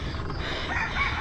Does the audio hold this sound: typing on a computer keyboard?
no